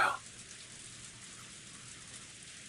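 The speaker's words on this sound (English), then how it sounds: "All that could be heard was the sound of the rain" Steady rain in the Umineko visual novel, an even, soft hiss of falling rain that holds constant throughout after a brief louder burst at the start.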